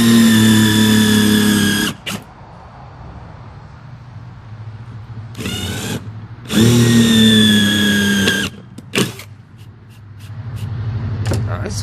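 Power drill driving screws into a wooden squirrel feeder, loud close whirring bursts: a long run at the start, then shorter bursts with pauses and brief taps between.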